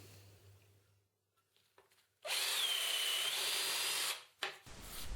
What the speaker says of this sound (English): For drilling the holes for the wiring, I've been using these auger drill bits